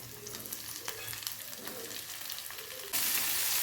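Onions sizzle as they fry in a pan for palak paneer with tomato, a steady close crackle with a few stirring scrapes, growing louder and brighter near the end as the tomato goes in.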